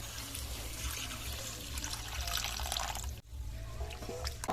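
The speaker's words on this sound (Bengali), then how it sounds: "এবার জল দিয়ে দেবো।" Water poured into a pan of frying spice masala, a steady loud hiss and trickle filling the clip with one brief break near the end.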